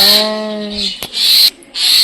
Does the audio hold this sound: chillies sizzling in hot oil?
no